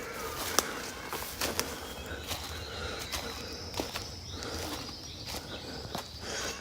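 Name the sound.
birds singing in mountain forest, Tooloom National Park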